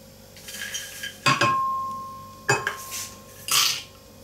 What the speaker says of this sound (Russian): Сейчас я тут со сковородочки положу арахис.